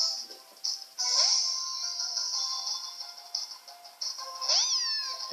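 Meowth's cry in the video game Pokémon Sun, two bright rising electronic meows about four seconds apart, the second ending in a wavering warble, over a steady synthetic background tone.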